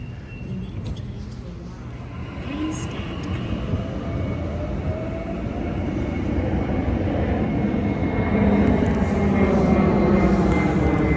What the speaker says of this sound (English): Commonwealth Engineering or Comeng carriages off set R42